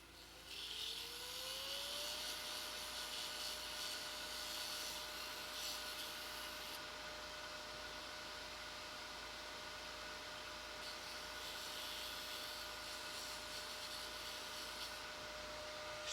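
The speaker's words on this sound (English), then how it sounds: "I need to get that off this inside edge right there, so I need to sand that" Power sander working the inside edge of a statue, a steady whining motor hum running continuously and fairly close, its pitch rising in the first couple of seconds and then holding level with rough grinding texture.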